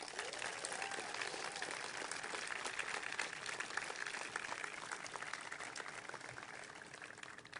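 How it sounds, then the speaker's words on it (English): Sustained audience applause fills a commencement ceremony hall, a dense steady wash of many hands clapping at even loudness throughout, with no voices rising above it. "please give a big round of applause and appreciation for your parents"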